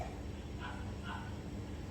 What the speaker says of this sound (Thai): มีหมาเพื่อนบ้านเห่าเนี่ยไม่รู้เสียงเข้าไปในคลิปนี้หรือเปล่านะครับ